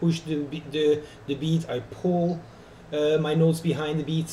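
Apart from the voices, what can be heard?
No everyday noise stands out behind the speech.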